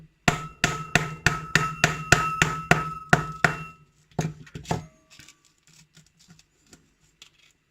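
A hammer raps a gallium-weakened Master padlock, about ten sharp metallic strikes in quick steady rhythm, then a few scattered clinks and small rattles as the lock falls apart, close and loud.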